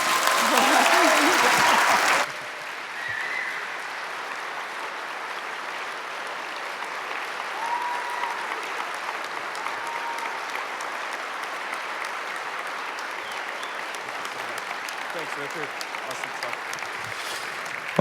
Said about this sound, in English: please give a huge round of applause for Carolyn Porco and Richard Dawkins